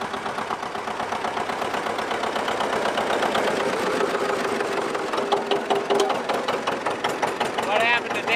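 A tractor, the 70, runs hot laps around a farm yard, its engine chugging and knocking steadily up close, with a rhythmic pulse that grows more pronounced toward the end.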